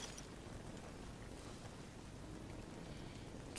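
Rain falling in Fallout New Vegas (modded, Honest Hearts), a faint, uniform wash of hiss that holds steady from start to finish with no voices.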